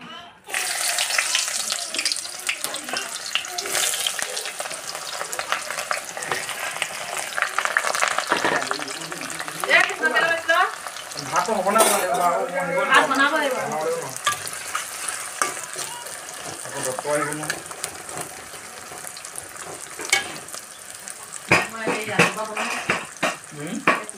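Onions go into hot oil for a pork belly dish and sizzle loudly, with bursts of crackling, clattering stirring and a stretch of running water at a sink; a voice is faintly present at times.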